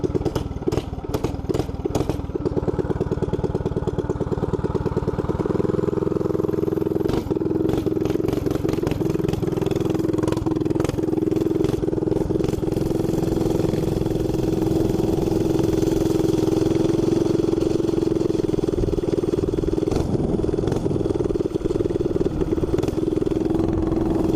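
A Predator 212 small engine with a stage 1 kit roars loudly and continuously nearby, idling rough at first, then holding a strong steady drone with occasional clattering.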